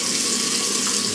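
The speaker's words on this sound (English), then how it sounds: "I always drain my pork and beans a little bit" Juice is drained from a can of pork and beans, and the liquid pours in a steady, close, continuous splashing stream with no talking.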